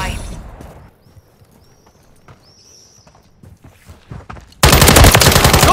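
Gunfire breaks out in Call of Duty: Modern Warfare, with a loud, dense burst of automatic fire at the end after a quieter stretch of muffled shots and shouted voices.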